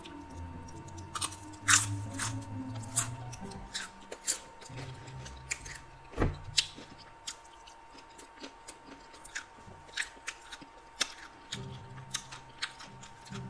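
Someone chews and crunches Beyond steak nachos, with loud, close crunchy bites and wet chewing coming in irregular bursts, and a few low murmurs in between.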